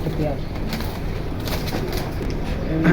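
Pigeons in a new collection being shown for sale coo softly and repeatedly, a low murmuring bird sound close by, amid steady background noise.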